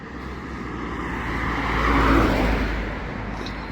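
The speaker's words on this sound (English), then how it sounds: "I hope that you will be able to hear me, and the background of the cars won't be so difficult." Steady road traffic beside the Old City walls of Jerusalem, a continuous low rumble of cars that swells as one passes close by midway, then eases back, with no talk over it.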